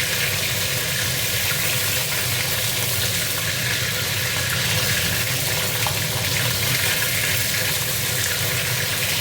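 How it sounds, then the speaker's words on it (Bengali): Rohu fish head frying in hot oil, a loud, steady, unbroken sizzle and crackle close to the pan, with no voices. "মাছের মাথাটা ভেজে নিচ্ছি।"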